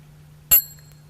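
A small mindfulness bell struck once with a bell inviter gives a single bright, clear ring with a sharp attack and a high, thin shimmer that lingers briefly, heard alone over a faint low hum.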